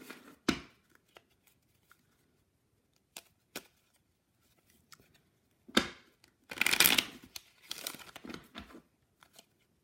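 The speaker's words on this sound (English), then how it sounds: "I'm going to have to shuffle because now that's all on the top." A stack of playing cards is shuffled for a solitaire math game: scattered soft taps and handling sounds, then a brisk riffling burst near the middle, close and fairly quiet with no speech.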